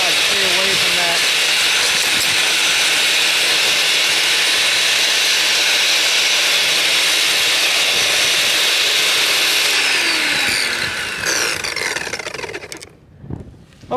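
A Black & Decker electric edger whines loudly and steadily for about ten seconds, with a broad high-pitched blade hiss, then winds down and cuts off near the end.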